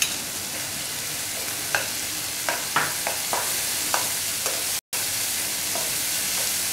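Frozen peas tipped and stirred into tomatoes frying in a pan for Odia dalma, giving a steady close sizzle broken by several sharp scraping stirs and clinks of the spoon.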